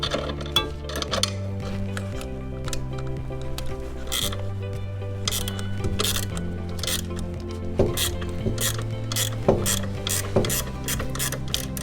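A 9/16 wrench works a tight nut off a water filter during RV maintenance, giving a series of close metallic ratcheting clicks and scrapes with faint ringing tones, with no talk.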